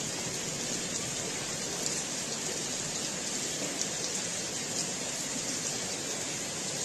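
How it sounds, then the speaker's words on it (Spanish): Steady rain falls over a residential neighbourhood in Chile, a dense, even patter of drops on surfaces that holds at the same level throughout with no voices. "Ha llovido harto"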